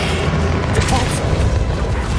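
Depulso force-push spell cast in the Hogwarts Legacy video game during a battle with Ranrock, a dense booming blast sitting in a continuous loud wash of game combat noise.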